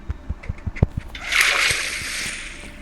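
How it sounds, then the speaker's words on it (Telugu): Water poured from a bucket splashes in the video game Minecraft: a soft rushing splash swells up after a run of quick footstep-like taps and lingers for a moment. "ఒక వాటర్ బకెట్ తీసుకుంటాను"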